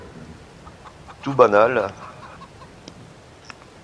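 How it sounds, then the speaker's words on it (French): Thirty virtual chickens in a small coop in Farming Simulator 22 give a short, loud burst of clucking midway, with someone talking quietly around it. "c'est il y a 30 poules, c'est un petit poulailler"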